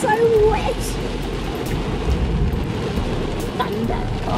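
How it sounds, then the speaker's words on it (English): Torrential rain pours down around a car while low thunder rumbles through the steady, loud hiss of the downpour, with a faint voice now and then. "Thunder."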